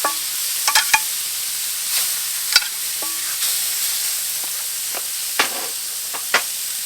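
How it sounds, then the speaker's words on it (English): Food searing on a Komodo Kamado charcoal grill, a steady soft sizzle heard up close, with a few sharp clicks and taps from handling the grill or food. "Going to let that sear for a minute."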